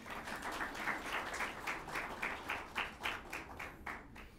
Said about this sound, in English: Give them a round of applause again, please.